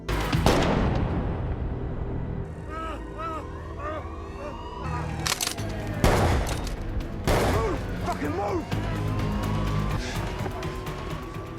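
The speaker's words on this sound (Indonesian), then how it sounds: "Karena panik, teman perampok tersebut segera menembak satu polisi lalu mencoba kabur dari sana." Gunfire crackles in an action film scene where a robber shoots a police officer and flees, with sharp bursts amid sirens, vehicle noise and a narrating voice over the top.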